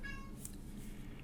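A cat meows at a closed door, one clear fairly close meow rising over a quiet indoor room hum.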